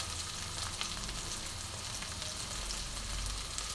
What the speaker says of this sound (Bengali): পেঁয়াজটা একটু ভালো করে ভাজা হবে